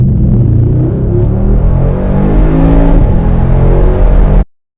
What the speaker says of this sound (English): It's the engine.